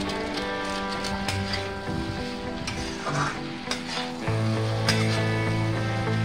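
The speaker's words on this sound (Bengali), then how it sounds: "গোটা জিরে, গোটা গরম মশলা, গোলমরিচ, লং এগুলা দিয়ে দেব।" Whole cumin, whole garam masala, peppercorns and cloves crackle and sizzle in hot oil along with potatoes, with close stirring scrapes and a louder, denser sizzle in the latter half; no talk.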